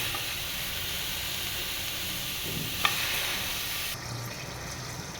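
Chopped onion hits hot oil in a pan for a steady, even sizzle with a faint hiss, one brief sharp crackle partway through, and a slightly quieter sizzle near the end, with no talking.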